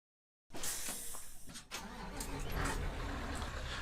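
Truck engine in Euro Truck Simulator 2 cranking to life after silence, then settling into a steady rumbling idle, moderately loud and alone.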